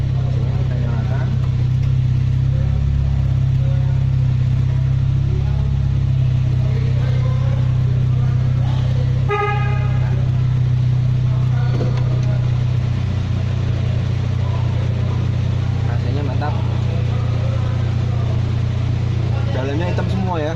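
A 2008 Honda Jazz with an aftermarket exhaust idles steadily with a deep, even low hum close by, while someone talks over it now and then and a brief beeping sounds midway.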